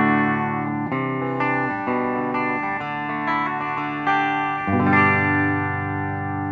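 An electric guitar plays a clean tone through a Kustom Defender amp: a run of single picked notes, then a strummed chord that rings out, loud and close, with no talk.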